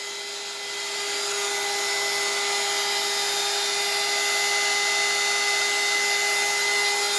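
A heat dryer runs steadily and close, drying chalk paste on a board, its whirring blower hum rising slightly at the start and then holding level with a fixed tonal whine throughout.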